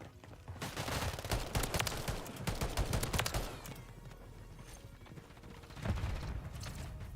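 Rapid gunfire bursts from a Call of Duty match, dense overlapping shots and automatic fire rattling almost nonstop, easing briefly before another loud volley near the end.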